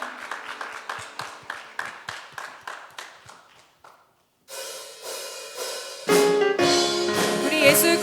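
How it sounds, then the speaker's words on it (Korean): A church congregation claps in a steady rhythmic beat at first, then after a brief pause a sustained musical passage swells and grows louder, with no speech. "감사의 박수를 예수님께 올려드리겠습니다."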